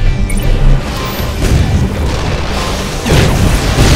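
Loud, repeated booming explosions and crashes strike a convoy under heavy fire in the strategy game Anomaly: Warzone Earth. Blasts come in bursts near the start, middle and end over a rumbling battle din.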